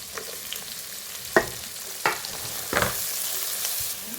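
Shallots, garlic and green chilies fry in oil with popped mustard seeds, a quiet steady sizzle broken by three or four sharp stirring scrapes.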